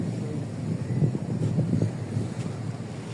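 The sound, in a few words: wind at the seaside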